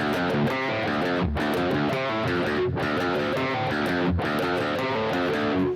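Heavily distorted electric guitar churns out a thick, saturated riff through a Carl Martin Greg Howe Lick Box pedal on its high-gain setting, loud and continuous, with short breaks between repeated phrases.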